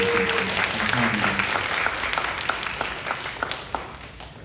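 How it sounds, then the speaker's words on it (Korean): Thankful applause from a church youth worship congregation after an instrumental performance, dense clapping that gradually thins and fades, with a brief voice at the start. "다시 한번 감사의 박수 드리겠습니다."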